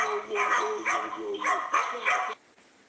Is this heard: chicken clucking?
no